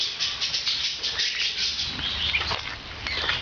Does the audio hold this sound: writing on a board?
no